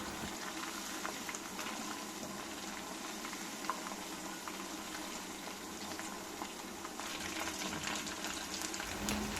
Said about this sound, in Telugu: చికెన్ని అలాగే ఒక ఫైవ్ మినిట్స్ వేయించుకోవాలి